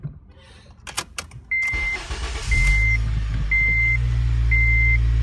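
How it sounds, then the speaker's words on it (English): A Honda Civic Si engine cranks and catches after a few clicks and a chime, then settles into a steady low idle while a dashboard warning beeps four times at even intervals. "We're going to start the car."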